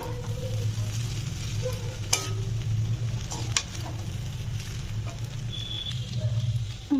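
Maggi noodles with egg and chicken are stirred in a pan, giving a steady close sizzle of frying. Occasional sharp scrapes and clinks come from the utensil against the pan, with no voices.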